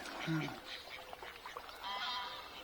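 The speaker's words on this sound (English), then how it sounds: "There's a lot of background noise, the ducks are having a bit of a set to." Ducks quack and squabble at a distance by the water at Earith, irregular calls heard faintly over steady outdoor background noise.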